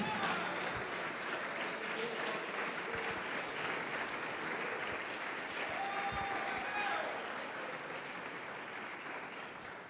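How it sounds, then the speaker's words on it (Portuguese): A church congregation applauds steadily for the whole stretch, a dense wash of clapping, with faint voices calling out beneath it. "Pode aplaudir o Senhor Jesus e glorificar."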